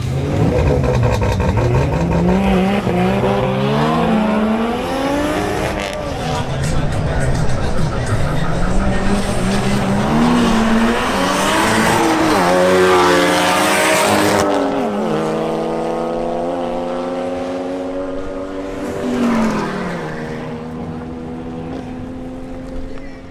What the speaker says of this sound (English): Next to make another run is Daniel Bora in his Volkswagen Golf GTI.